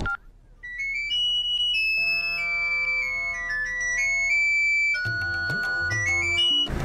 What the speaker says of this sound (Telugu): ఒరే ఎదవా, ఫోన్ ఎత్తరా